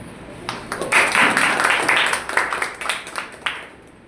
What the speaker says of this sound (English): Now we will welcome with a great round of applause our guest Saranya.